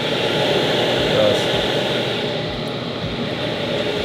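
A powerful darkroom ventilation fan cranked up, drawing in air with a steady, close broadband whoosh and hum that stays even throughout with no pauses.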